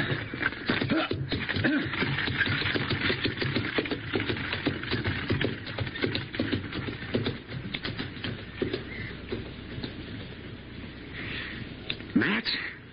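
Radio-drama horse hooves clip-clop in a steady, close rhythm that runs the whole time, with some shuffling and a few louder knocks near the end, and no talk over them.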